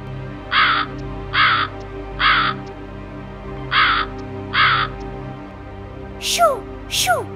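Cartoon crow in an animated children's moral story, cawing in five evenly spaced harsh calls, followed by two sharp descending swoops, fairly loud against a quiet background.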